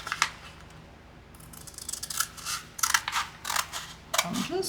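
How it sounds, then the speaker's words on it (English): A pair of large scissors trims paper for an envelope junk journal: a run of crisp, close snips and clicks, irregular at first, then quicker and louder toward the end. "I'm just going to give that a little cut."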